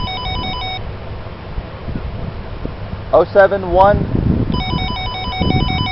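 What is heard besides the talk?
gate telephone entry system call ringing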